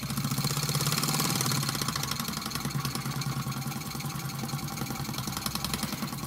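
A restored Mamod toy steam engine runs close by with a steady, fast mechanical chuffing and rattling that keeps going throughout, with no one speaking.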